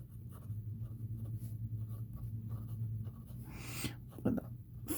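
A fine-nib pen writes with Pilot red ink on paper, giving faint, close, irregular scratchy strokes over a low background hum, with a few brief louder scrapes toward the end.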